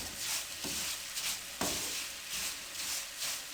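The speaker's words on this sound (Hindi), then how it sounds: "सूजी को इसमें अच्छी तरह भूनना है।" Semolina (suji) roasting in a pan over low heat for halwa, a constant close sizzle with scraping stirs that come in periodic swells, steady and moderately quiet with no voices.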